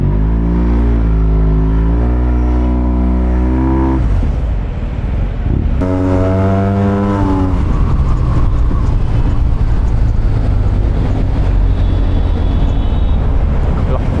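Yamaha TMAX 560 scooter carrying a rider and passenger accelerates hard, its engine note climbing steeply, then pulling up again after a brief drop, loud and close with rushing wind noise throughout.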